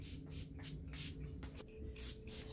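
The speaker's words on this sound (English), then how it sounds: "Spray on the sofa and pillows to freshen." A series of short hissing bursts of odor eliminator spray onto a sofa and pillows, about six in a row, close and fairly quiet, with brief pauses between them.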